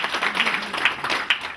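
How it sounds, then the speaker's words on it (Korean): An audience at a lecture for educators claps to welcome the lecturer onto the stage, a short burst of steady, moderately loud clapping with no voices. "박수로 환영해 주십시오"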